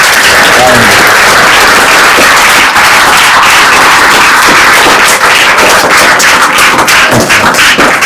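An audience at a Chhatrapati Shivaji Maharaj Jayanti celebration claps loudly and steadily for a retired TS Transco officer, dense continuous applause throughout.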